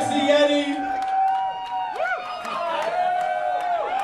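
A crowd at a no-ring deathmatch wrestling show cheers and whoops loudly and continuously, with sustained tonal sounds and voices mixed in.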